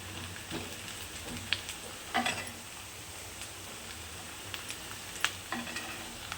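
Ginger garlic paste sizzles in hot oil for a Telangana fish curry, a steady, moderate crackle broken by occasional sharp pops and spoon taps.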